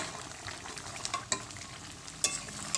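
Vegetables coated with cumin paste are stirred in a simmering curry with Malabar spinach and fish, giving a close, steady sizzle with occasional sharp scrapes and knocks of a spoon against the pot.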